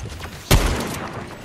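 A single sharp gunshot in the Fortnite game, a sudden loud crack with a short booming tail, standing alone in the brief moment.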